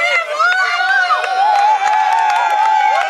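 A wrestling crowd at a CWF Back to Hell event cheers and shouts steadily, loud and close, with scattered claps and excited voices throughout.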